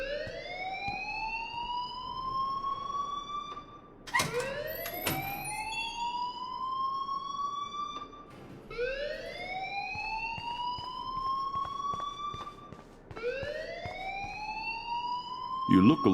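A wailing school fire alarm in the video game Life is Strange, repeated rising siren sweeps roughly every four seconds, loud and steady, with a few brief bursts of other game sounds between cycles.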